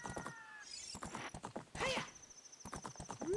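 Epona the horse in Ocarina of Time clip-clops along in quick, even hoofbeats, with a short whinny in the middle, loud and close with game chimes around it.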